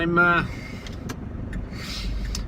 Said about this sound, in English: so I miss all this traffic that I'm now encountering